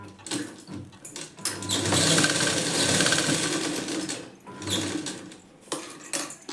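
A sewing machine stitches the front panel of a blouse, running close with a steady whirring drone for a couple of seconds, then stopping and restarting in shorter runs, with no talk.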